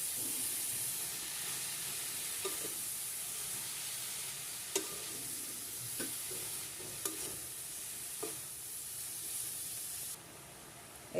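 Pea-shoot greens being mixed in a frying pan for a prawn curry, giving a steady sizzle and hiss with occasional soft stirring scrapes and clicks, close and moderately quiet, no talking.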